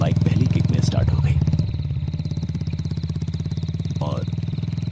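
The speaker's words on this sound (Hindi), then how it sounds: "इस बार बाइक पहली किक में स्टार्ट हो गई" Motorcycle engine running after starting on the first kick, a steady close chugging idle throughout, with a voice talking over it.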